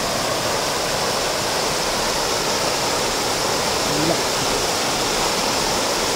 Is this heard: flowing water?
yes